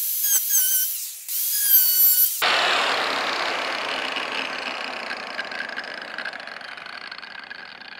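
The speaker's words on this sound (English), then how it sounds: "we have to have at it with the angle grinder very carefully" An angle grinder cuts through vehicle bodywork for a ram-head snorkel install, a harsh high whine that begins after a short squealing start and holds steady as a loud continuous grind.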